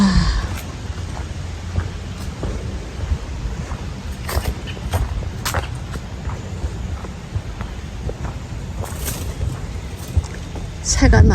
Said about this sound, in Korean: 바람 소리.